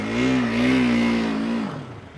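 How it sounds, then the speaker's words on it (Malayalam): A 2021 KTM RC motorcycle revving close by, a loud, steady, buzzing engine note that holds for over a second and then drops away as the rider pulls off. "നമ്മൾ ഈ RC ഒന്ന് റൗണ്ട് അടിച്ചെടുത്ത് നിർത്താലോ"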